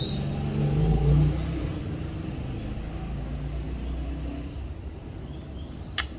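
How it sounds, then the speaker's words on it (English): A motorbike engine revs and rumbles steadily at a moderate distance, swelling briefly early on before settling into a continuous drone, with a short sharp click near the end. "Motorbike guy is making noise."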